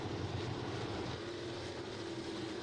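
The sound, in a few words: crate sprint car engine racing at speedway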